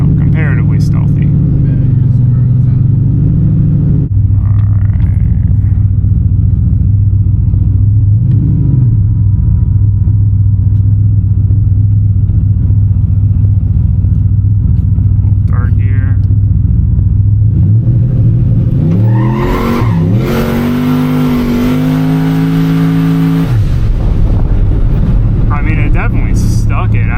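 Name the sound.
turbo LS street truck engine and exhaust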